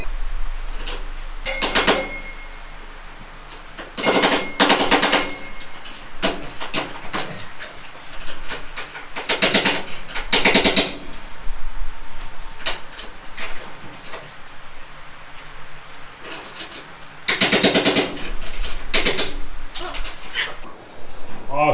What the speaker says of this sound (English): Pry bar and a hammer. That's what I need.